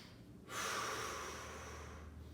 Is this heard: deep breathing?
yes